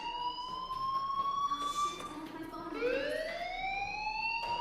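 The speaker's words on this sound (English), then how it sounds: "do you hear that fire alarm? That means you should be outside." School fire alarm ringing in the video game Life is Strange, a loud electronic tone that wails and bends in pitch without a break, heard on its own with no one talking.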